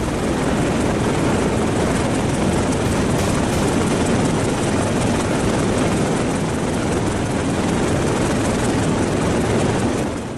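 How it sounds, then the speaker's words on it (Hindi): An HAL Light Combat Helicopter in flight over high-altitude eastern Ladakh, its rotor and turbine roar loud and steady throughout, a dense broadband wash with no voices. "की सेना के तरकश से निकला हेलीकॉप्टर उड़ान भर रहा है। ये HAL का लाइट कॉम्बैट हेलीकॉप्टर है।"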